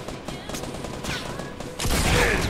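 Rapid gunfire in the video game Fortnite fires in quick bursts, closing in a louder, brighter volley, with a voice calling out briefly over the shots.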